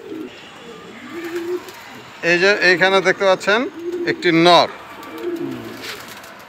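Homer racing pigeons coo in soft, rolling bursts at close range, with one louder run of throaty calls in the middle while someone talks over them.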